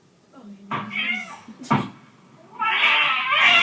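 A pet cat gives several close, strained meows that rise into a drawn-out, distressed yowl. Human voices talk softly around and under the cries.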